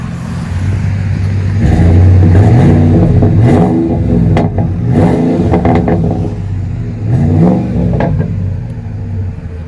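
A Ford F-150 with a 5.4L engine and Flowmaster exhaust revs repeatedly in the rain, giving a loud, close, deep burbling roar that rises and falls in several surges, with no talking.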